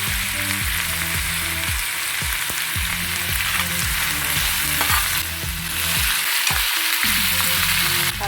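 Ingredients for dried fish thokku sauté in a pan with a constant close sizzle and frying crackle, overlaid by regular stirring and scraping strokes. No one speaks.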